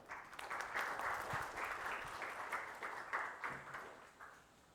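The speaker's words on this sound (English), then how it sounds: "With a huge round of applause," A conference audience at a blockchain talk breaks into a swell of applause for the first speaker, moderately distant and steady, tapering off toward the end.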